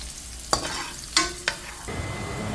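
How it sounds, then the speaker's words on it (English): Carrots, garlic and dried chili sauté in a pan for spicy pasta: a close, steady sizzle broken by three sharp spatula knocks against the pan, then a softer, rougher frying hiss at the end. "let the carrots, garlic, and dried chili saute before adding the corn"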